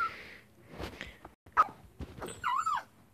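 A dog in a video game barks and yelps in a few sharp bursts, fairly close, with a whimpering whine near the end and some game-like background noise.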